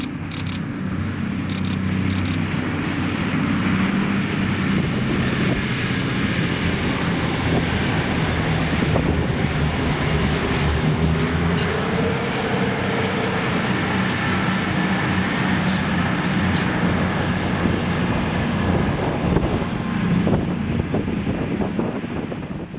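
A Class 221 train on the Glasgow Central to Carlisle service passes close by for over twenty seconds. It makes a broad, steady rush of rail roar with heavy wind buffeting on the microphone and no voices.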